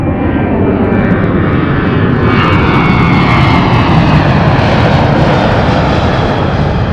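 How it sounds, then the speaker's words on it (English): DC-6 piston propeller airliner taking off low and slow at Anchorage's Ted Stevens International Airport, a loud, continuous rumbling roar of radial engines that stays strong throughout, with no talk. "Low and slow takeoff."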